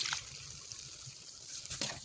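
Liquid trickles and splashes steadily into a pan, a soft continuous pour with a brief louder splash near the end.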